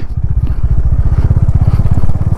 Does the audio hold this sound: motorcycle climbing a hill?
yes